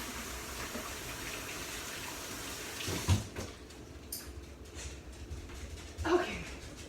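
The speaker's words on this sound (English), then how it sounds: "Gonna wash my hands and then we'll get started." Tap water runs steadily at a sink while someone washes their hands before making homemade lasagna, a continuous gush with a few knocks and splashes partway through.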